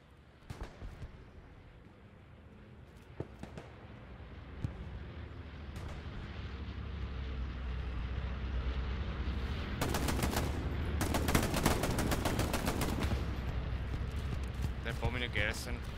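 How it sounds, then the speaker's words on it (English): Gunfire and bombing in the World War II shooter Hell Let Loose on the Remagen bridge map: scattered distant shots build into dense, rumbling bursts of rapid fire and blasts, with voices faintly mixed in. "They're bombing a garrison."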